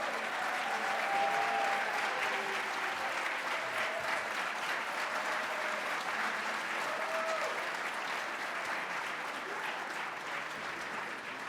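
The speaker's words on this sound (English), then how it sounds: "please stand for one more round of applause for a job well done" An awards ceremony crowd, with honorees and student production winners standing, gives a sustained round of applause lasting over ten seconds, a thick, continuous clatter of hands with faint voices and cheers mixed in beneath it.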